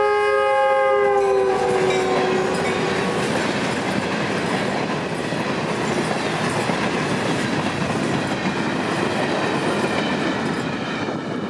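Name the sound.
Florida East Coast Railway freight train passing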